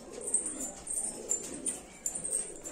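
Pigeons coo softly in a loft, a low continuous murmur of several birds with faint chirps and rustling, fairly quiet and without talk.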